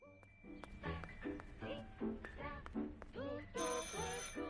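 A telephone rings repeatedly in the video game Martha Is Dead, sounding as a steady run of bright, clustered electronic trills that continue for several seconds at moderate loudness.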